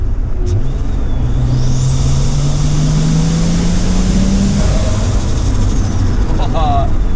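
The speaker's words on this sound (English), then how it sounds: "This Mamba Turbo sounds so good." A Nissan Skyline drift car with a Mamba turbo drives on a Japanese street, its engine droning loudly and rising steadily in pitch as it accelerates, with a high turbo whine and constant road rumble.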